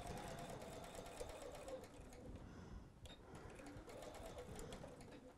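A sewing machine back tacks along a tote bag handle seam, a quiet, steady mechanical whir with rapid needle stitching, briefly pausing mid-way as it reverses before stitching on.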